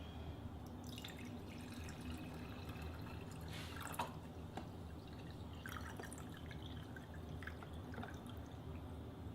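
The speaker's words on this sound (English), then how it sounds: "So after stirring with our normal tap water, let's see what we get out of tap water." Tap water dripping from freshly washed tomatoes, soft scattered drips and trickles over a steady low background hiss, with no talking.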